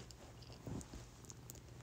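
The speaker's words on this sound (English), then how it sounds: "I have Miss Ava cuddling with me and that's why you hear the purring." A pet cat named Miss Ava purrs softly while cuddled close, a faint steady low rumble running continuously under quiet room noise.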